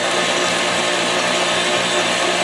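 An electric mixer whips room-temperature butter, giving a steady, loud, continuous whirring motor drone that holds without pause, close by and with no voices over it.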